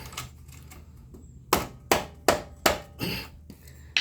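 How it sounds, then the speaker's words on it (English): A mallet taps the tight 17 mm oil drain plug on a first-generation Suzuki Hayabusa to loosen it: a quick run of five or six sharp, close knocks after a quiet start. "Just a little tap of the mallet."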